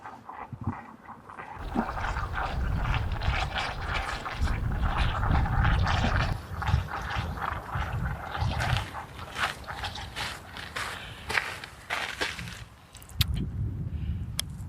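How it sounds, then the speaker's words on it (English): Hot spring water bubbling up from hazardous thermal ground at Yellowstone, a steady, close, churning gurgle and slosh that fills the clip with brief dips, with no voices over it. "That's the sound of the hot springs, the water just kind of bubbling up."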